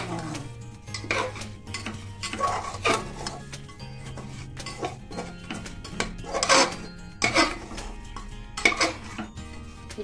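Dry rice being stirred in a pan with a utensil, repeated scraping and clinking strokes against the metal at a steady uneven rhythm, close and moderately loud, with a low hum underneath.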